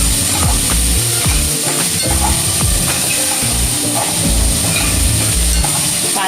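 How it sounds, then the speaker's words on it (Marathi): Chopped onions for chicken liver masala sizzle and fry steadily in a hot pan, a continuous crackling hiss with occasional stirring scrapes, close and fairly loud throughout with no talking. "कांदा जरा मऊसूत होईपर्यंत परतून घ्यायचा आहे।"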